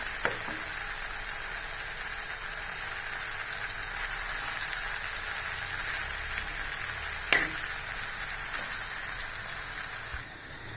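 Plantain slices fry in sesame oil, giving a steady, close sizzle with a couple of sharp clicks, one of them near the middle. There is no talking.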